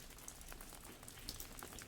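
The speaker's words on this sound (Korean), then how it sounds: "요 한옥에 이런 빗소리, 예, 이곳에서, 이 강진에서 이런 빗소리를 들으면서" Steady rain falls on a traditional Korean hanok house in Gangjin, a dense, even patter with scattered close drip hits throughout and no voices.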